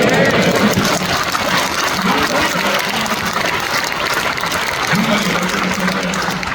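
A church congregation at a Korean elders' retreat worship service claps in thanks, a steady roomy patter heard under a pastor's voice speaking through the hall.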